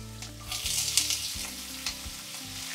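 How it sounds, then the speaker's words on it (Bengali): Potato pieces fry in oil with nigella seeds and slit green chilies, a steady close sizzle with a few brief stirring scrapes and no talk. "আলু টুকরোগুলো 2 মিনিট ভেজে নেব"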